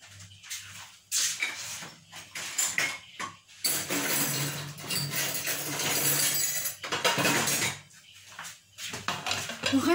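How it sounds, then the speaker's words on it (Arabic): Salted raw potato fries are stirred by hand in a bowl, giving close, irregular rustling and clattering bursts with brief pauses between them and no talking. "وغنحركها مزيان باش تدخل هذيك الملحه"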